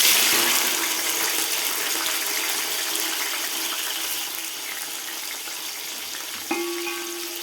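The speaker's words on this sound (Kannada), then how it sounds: "ನೋಡಿ, ಇದು ಫ್ರೈ ಆಗ್ತಾ ಇದೆ." Onion, tomato and fenugreek leaves frying in hot oil give a steady, loud, close sizzle throughout, with a brief clink of a utensil near the end and no talk.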